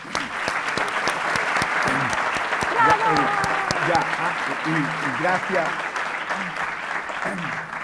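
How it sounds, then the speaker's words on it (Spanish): An audience at the Radio Agricultura event Efecto Red 2025 breaks into sustained, steady clapping filling the room, while a voice speaks briefly over it. "Un aplauso para Pato y Daniel."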